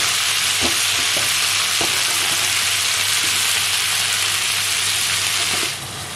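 Frozen prawns frying in butter and garlic in a pan, a loud dense sizzle close up, steady and unbroken, dropping off slightly at the very end.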